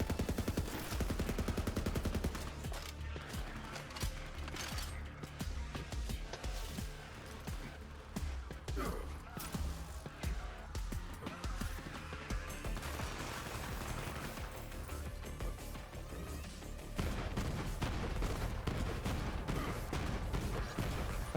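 Dense, continuous video game combat with rapid gunfire and explosions, a loud churning barrage that runs the whole stretch, easing slightly in the middle before swelling again.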